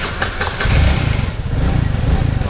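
A SkyDrive motorcycle at a dealership compound starts up and then runs, a loud, close engine whose rough low rumble swells after a brief cranking burst and holds steady, with no talking.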